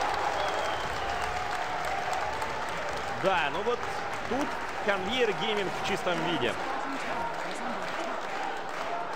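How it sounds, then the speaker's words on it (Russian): An esports arena audience at a Starladder LAN match between Na`Vi and Sigma breaks into sustained applause and cheering, a loud crowd roar running beneath an excited commentator's talk. "Вы слышите, как зал просто разразился аплодисментами."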